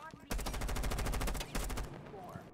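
Rapid automatic gunfire in Rainbow Six Siege, missed shots in two close bursts: a long rattling string followed by a shorter one, loud and near, with no voices.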